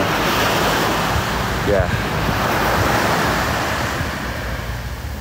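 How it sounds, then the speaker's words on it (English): Ocean waves breaking on a beach make a constant loud roar of surf, with wind buffeting the microphone. A brief spoken word is barely heard under the noise. "Just listen to the waves."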